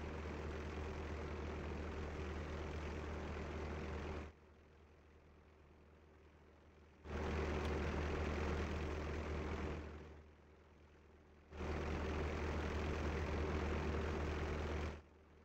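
Steady airplane engine drone from a flight game, a loud low hum that cuts off abruptly and returns in three long blocks, dropping to a faint hush between them, with no talk.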